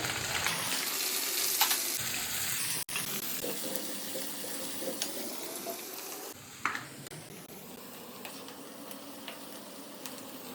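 Onions, green chillies, chana dal and mustard seeds fry in hot oil for upma, a steady broadband sizzle with spoon stirring and small clinks throughout, close and fairly loud, with no talking.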